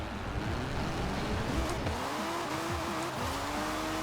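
A drift-tuned 007 Jaguar slides sideways in Forza Horizon 4, its engine note sweeping up and down through gear changes while tires squeal steadily throughout the run.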